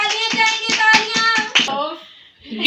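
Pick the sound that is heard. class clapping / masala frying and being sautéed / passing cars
class clapping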